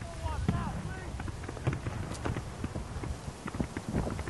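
Horse hooves clip-clop in a quick, uneven run of knocks throughout, heard alongside a voice and other background sound.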